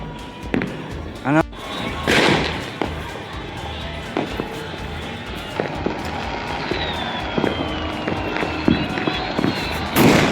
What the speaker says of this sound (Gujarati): ફટાકડા ફોડે છે